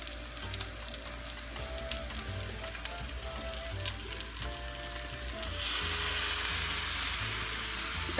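Shrimp fried rice sizzles steadily in a hot pan while being stirred, a continuous close frying hiss that swells louder toward the end, with no talking.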